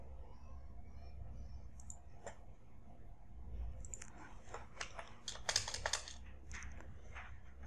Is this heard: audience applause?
no